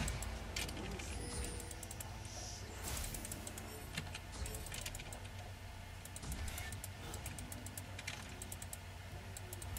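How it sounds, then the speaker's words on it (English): Typing on a computer keyboard during an online game: rapid, fairly faint bursts of key clicks run throughout over steady background noise. "Hey, stop typing."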